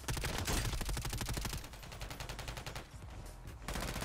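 Rapid automatic gunfire from the shooter game Warzone, dense overlapping bursts of shots filling the whole stretch, loud and close with brief dips between volleys.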